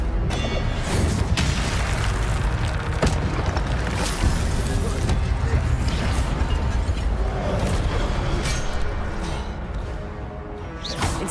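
Repeated Incendio fire spell casts in Hogwarts Legacy combat, a continuous loud stream of bursting, crackling blasts and booms with sharp pops layered over each other throughout.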